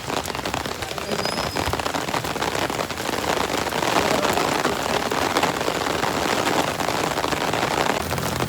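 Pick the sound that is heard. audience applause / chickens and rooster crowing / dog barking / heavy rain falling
heavy rain falling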